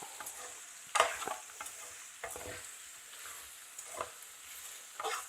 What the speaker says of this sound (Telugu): కలబెడతానే ఉండాలి ఈ మసాలా వాసన పోయేంత వరకు